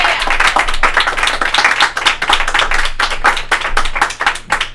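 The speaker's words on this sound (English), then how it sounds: "A round of applause for KJ Whitehead, everybody." Audience at a live comedy show applauding, dense steady clapping from many hands sustained loud and close throughout, with no speech over it.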